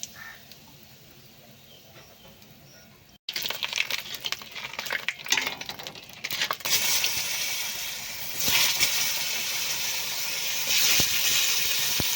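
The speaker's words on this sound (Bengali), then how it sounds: "এবারে পটলটা ভেজে নেব" Pointed gourd (potol) frying in oil in a pan, a loud sizzling hiss that bursts in after a quiet start and carries on steadily with crackles and spits, no talk.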